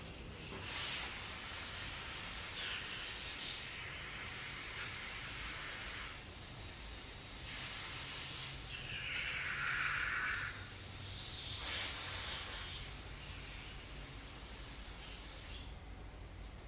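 Compressed air hisses in several loud bursts, some steady and some broken, as jets and passages of a 2004 Yamaha TTR 250 motorcycle carburetor are blown out on a workbench.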